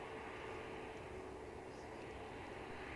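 An airliner at Edinburgh Airport produces a faint, steady jet roar in the distance, continuous and unbroken throughout.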